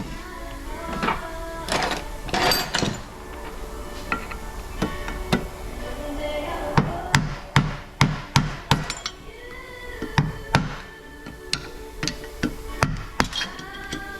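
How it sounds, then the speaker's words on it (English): Steel punch hammered against a Detroit Diesel 12V-71 water pump, knocking out its lip seal: a long string of sharp, close metallic hammer strikes at uneven intervals, some clustered in quick bursts, with no talking. "I'm going to knock out the water seal."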